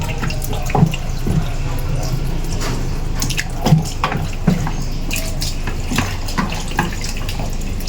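Tap water runs steadily into a sink while catfish is washed, with low pressure and occasional splashes and clunks of handling, and a voice speaks faintly in the background.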